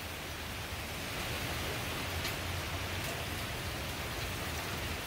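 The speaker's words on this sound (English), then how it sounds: "You can see this rain coming down pretty good right now." Heavy tropical-storm rain from Hurricane Dorian pours down steadily, a dense, loud, continuous hiss with gusty wind and no voices.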